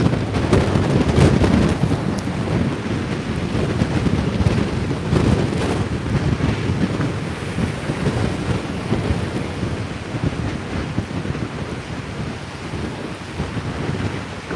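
Strong tropical storm Nicole wind roars against the microphone along the seawall in Saint Augustine, Florida, with heavy surf churning beneath in a constant loud, blustery wash.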